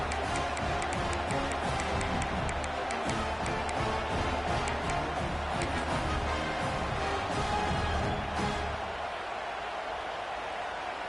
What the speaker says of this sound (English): the crowd roaring, trying to make it difficult